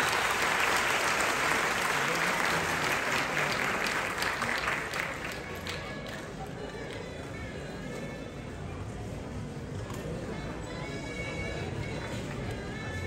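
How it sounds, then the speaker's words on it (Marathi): Audience applause at a civic felicitation ceremony for Paris Olympics 2024 athletes, a dense wash of clapping loudest at the start and easing off, with a voice over a public address system. "जोरदार टाळ्याने आपण कौतुक करू. टाळ्यांचा आवाज जरा जोरात यायला पाहिजे."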